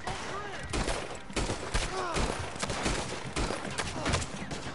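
Gunfire from the hip in Red Dead Online, a rapid series of sharp shots fired in quick succession and loud throughout, with a voice talking over parts of it.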